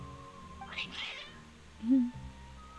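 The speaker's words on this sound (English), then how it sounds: "Your cats seem pretty worked up." Cats meowing in Genshin Impact, a couple of short, fairly close mewling calls over a soft game music bed, with a louder, higher cry near the end.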